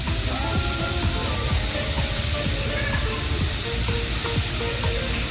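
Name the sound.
finely shaved steak sizzling on a Blackstone griddle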